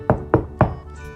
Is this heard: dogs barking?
no